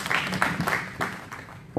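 Applause rises in a church gathering during a pastors' anniversary service: a short burst of many hands clapping, fairly close and steady, with faint voices mixed in.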